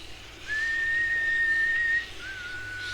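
A single sustained whistled note held for about a second and a half, clear and fairly loud, followed by a softer continuing whistle.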